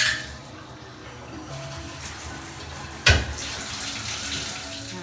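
Water runs from a shower nozzle in a newly installed garage bathroom, a steady close hiss with a brief knock partway through.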